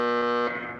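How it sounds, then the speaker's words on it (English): A game show buzzer gives one loud, harsh electronic tone that holds steady, then drops in pitch and fades slightly before ending. "A buzzer there."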